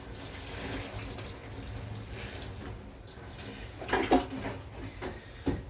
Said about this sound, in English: Turn them around and water them in from this side too.